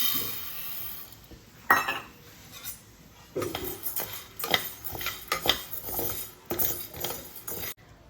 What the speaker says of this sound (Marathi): मी इकडे कढई ठेवले हे तापत आता त्यामध्ये आपण साबुदाणा टाकूया